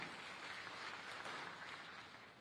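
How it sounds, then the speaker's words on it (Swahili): Audience clapping at an international mining investment conference, a steady wash of applause from a large crowd in a hall, faint and continuous without a break. "Naye pia tumpigie makofi mengi sana."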